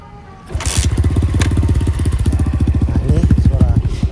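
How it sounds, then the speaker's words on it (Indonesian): A CMX 125cc mini trail motorcycle's engine starts up close by, catching quickly and settling into a steady, throbbing idle with a regular pulsing beat. "Kita nyalain motor ya."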